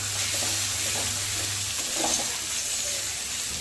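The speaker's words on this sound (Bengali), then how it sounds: "ভালো করে নেড়ে চেড়ে কষে এবার জল দিয়ে দেব।" Spice paste for a rohu fish curry fries and sizzles steadily in a pan, with a few soft scraping stirs near the start and middle over a constant hiss; no talking.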